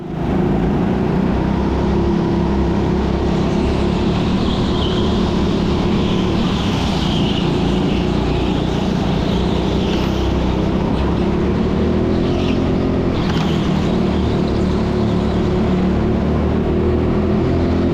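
Go-karts racing on an indoor track, a loud continuous engine drone from the driver's own kart with rising and falling revs and other karts buzzing nearby.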